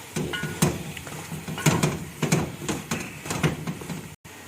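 Grated carrot halwa, 2 kilograms of carrot, is stirred and roasted in a pan, giving repeated scraping strokes in an irregular rhythm at close range, with a soft sizzle underneath and no talking.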